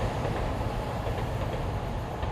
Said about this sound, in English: The Shinkansen is running, my friends.